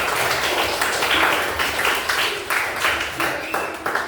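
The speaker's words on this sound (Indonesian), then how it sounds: "Tepuk tangan buat anak-anak kelas 5 semua" Fifth-grade children in a classroom break into a burst of clapping and cheering, a dense, bright crowd of hands and voices rising and falling in waves, close and lively.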